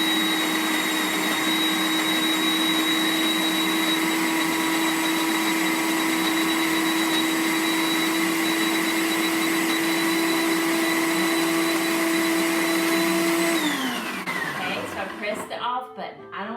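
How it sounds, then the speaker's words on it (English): A loud, steady electric blender blending a smoothie whirs continuously for about thirteen seconds, then winds down and stops, followed by faint clattering. "And then I'm going to go to blend."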